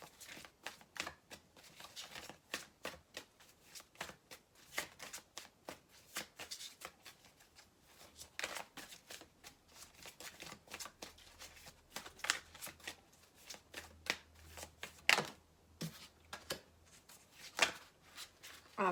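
A deck of card-reading cards is shuffled again and again up close, giving quick rhythmic riffles and soft slaps that repeat throughout.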